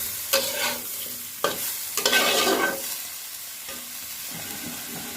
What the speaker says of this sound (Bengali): ঢাকা দিয়ে রাখি, একবার নাড়া দিয়ে দিই।